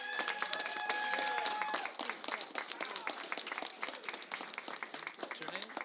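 Audience clapping at a county proclamation signing for Developmental Disabilities Month in San Diego, a dense burst of applause that thins into scattered claps with voices and cheers mixed in.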